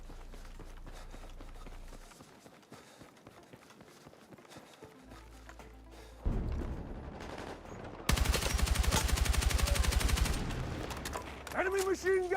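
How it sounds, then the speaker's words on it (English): Machine gun fire rattles in Battlefield 6, a battle royale shooter, as rapid loud bursts over a busy battlefield mix of footsteps and other gunshots, with the heaviest sustained burst near the end. "Enemy machine gun!"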